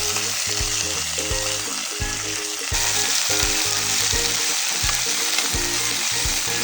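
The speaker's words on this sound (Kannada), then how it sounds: "ಈಗ ಮೊದಲಿಗೆ ಈ ಕರ್ಚಿಕಾಯಿನ ಒಗ್ಗರಣೆ ಒಳಗೆ ಹುರ್ಕೊಳ್ಳೋಣ" Karchikai frying in a mustard and cumin tempering for an Uttar Karnataka palle, a steady loud sizzle with a rhythmic clatter of stirring throughout, alone with no talk.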